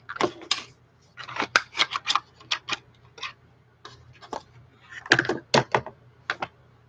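Small scissors for cross stitch handled beside a little box of thread, giving a close series of crisp clicks, snips and light taps in irregular bursts with no talk.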